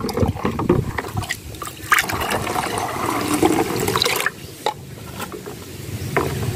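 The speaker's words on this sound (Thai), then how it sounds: "จากนั้นก็นำตักใส่ก๊อกกี้เลยนะคะเพื่อที่เราจะนำไปฉีดพ่นนะคะ" Homemade noni fruit pesticide liquid is scooped and poured into a spray bottle. Close, wet sloshing and trickling goes on steadily for several seconds, with brief splashes.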